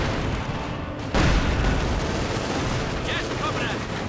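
Gunfire in a Company of Heroes 2 battle, with a dense, steady wash of shots and rumble through the whole stretch and a louder burst about a second in.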